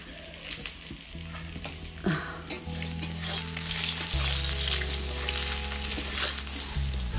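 Whole garlic and onions frying in oil for a thin egg curry, a steady close sizzle with a few sharp knocks and scrapes of stirring, a low hum running underneath, no voices.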